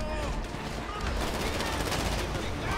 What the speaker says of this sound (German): Ich schieße einfach irgendwo rein.